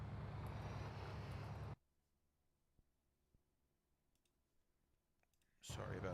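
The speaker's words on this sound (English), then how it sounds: "One second, got to click on something." Two or three sharp, isolated mouse clicks sound close up in near silence, set between loud stretches of car engine noise from GTA IV gameplay.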